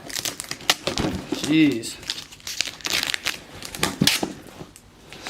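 Packing tape is pulled and peeled off a boxed 1:18 Corvette C8 diecast model, with loud crinkling, ripping and crumpling bursts close up, and a man briefly exclaims in between.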